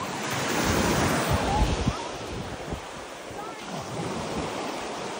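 Ocean surf at Mystic Beach near Port Renfrew rolls and washes in a continuous close roar, with wind buffeting the microphone and a voice faintly mixed in.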